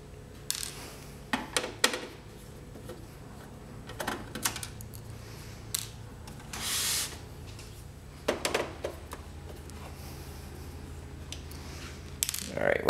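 Small metallic clicks and ratcheting ticks from a regular Phillips screwdriver backing screws out of the back cover of an Epson 1430/1500W printer, scattered bursts close to the mic with quiet gaps between.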